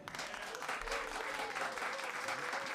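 A live music audience claps steadily in a sustained, dense wash of applause, moderately distant, with some voices mixed in.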